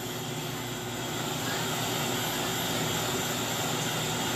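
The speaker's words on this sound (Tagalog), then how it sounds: "Torch yan, pinapainitan na niya mga bro para maluto yung banding" A torch roars steadily and loudly, heating the bonded banding on a scooter's primary clutch in a mechanic's shop; a continuous broadband hiss with no break and no voices.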